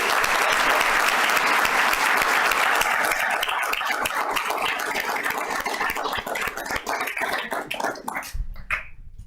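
Dense, loud applause from an audience cheering nominees at a town council meeting holds steady, thins into scattered claps, then stops abruptly near the end.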